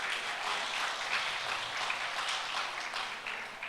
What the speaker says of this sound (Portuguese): Aplaude ao Senhor por isso.